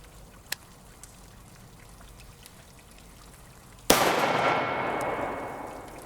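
After a few faint ticks in near-quiet, a 16-inch Stag rifle fires a single 5.56x45mm 75 grain Gold Dot round. The close, very loud crack is followed by a long, gradually fading ring.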